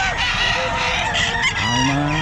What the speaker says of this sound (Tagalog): Ang daming manok mga sir, oh.